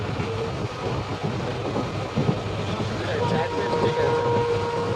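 A passenger train rolls along the rails in Upper Assam, heard from inside the carriage: a steady low rumble with faint clatter, while a person talks over it.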